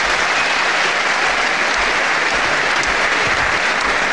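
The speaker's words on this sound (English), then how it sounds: "a big round of applause for both these men, Bob Kirkwood and the winner, Catweazle." Steady, loud applause from a televised wrestling crowd after a professional bout ends in a fourth-round technical knockout, dense even clapping filling the hall without a break and no voices standing out.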